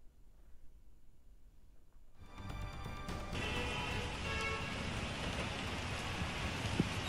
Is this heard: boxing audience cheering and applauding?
no